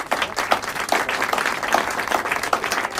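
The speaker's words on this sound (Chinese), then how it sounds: "大家给他鼓掌" Applause from a group at a celebration dinner, a steady dense clapping that lasts about three seconds with no gaps, fairly close and loud, with no speech over it.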